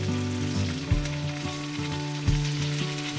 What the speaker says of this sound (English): While the meat is cooking, go ahead and season it with a little Italian seasoning and some salt.